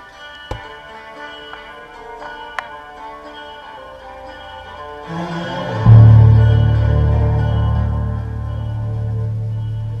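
An Android phone feeds a music track through the AUX input of a car stereo, starting quietly after a few faint clicks and then swelling into steady, fairly loud music with a strong low bass tone that continues to the end.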